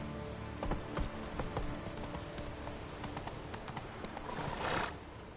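Roach the horse gallops in The Witcher video game, hooves pounding in a steady rapid clip-clop with a whinny, clear and moderately loud throughout.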